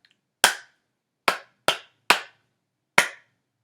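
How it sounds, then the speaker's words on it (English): Five sharp hand claps in an uneven rhythm, close and crisp, each separated by silence, in a music class. "Did I clap that rhythm or did I clap something else?"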